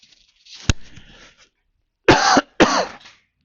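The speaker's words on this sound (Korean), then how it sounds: "저는 기관지가 안 좋아서 기침을 자주 하는 거지" A single sharp cough is followed by two harsher, longer coughs after a short pause, close up and loud against quiet surroundings.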